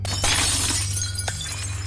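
A mirror shatters into many pieces in a loud, bright crash, followed by a second sharp burst of breaking glass over a constant low hum.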